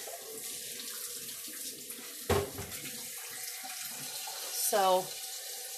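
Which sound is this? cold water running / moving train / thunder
cold water running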